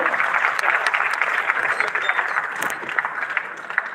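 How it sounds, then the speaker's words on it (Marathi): At an award ceremony in Nagpur, an audience claps in sustained, dense applause that fills the hall at close range and carries on steadily throughout. "सर्वांनी जोरात टाळ्या वाजवायचे आहे"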